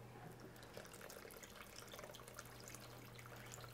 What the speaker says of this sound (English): Might just add just a bit more water